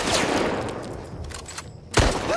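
Bursts of gunfire in The Last of Us remake crackle and echo on a street, with a sharp loud shot near the end over a rumbling background.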